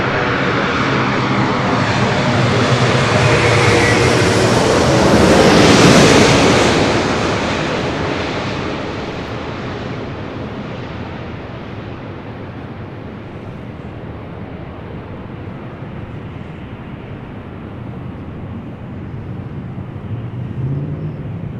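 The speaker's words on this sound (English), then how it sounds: "This is Delta Airlines Flight 8 Heavy coming in from Tokyo Haneda" A Delta Airlines A330 heavy jet from Tokyo Haneda on approach to land at LAX roars loudly as it passes close overhead, then fades into a long, steady broadband rumble with no talk.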